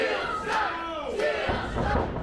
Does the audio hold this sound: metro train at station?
no